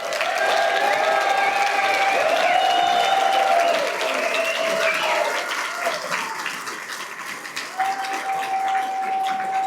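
Sustained applause from a seated audience honoring standing inductees at a wrestling Hall of Fame induction ceremony, a dense wash of clapping that holds steady, thins slightly midway, and continues to the end with a few cheers.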